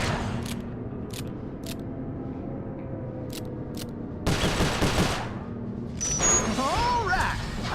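Shooting in the video game Sly Cooper: Thieves in Time: sharp, repeated shots tapping out over a steady game backdrop, then a denser burst of fire near the middle, with a voice speaking briefly toward the end.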